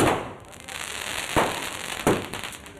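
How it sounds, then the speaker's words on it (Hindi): Fireworks set off by villagers celebrating, a faint hissing crackle in the background punctuated by a few sharper pops and bangs, heard from some distance. "कुछ लोगों ने आतिशबाजी भी की"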